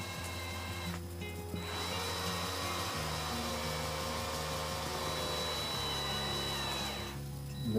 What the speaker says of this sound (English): Got my electric drill.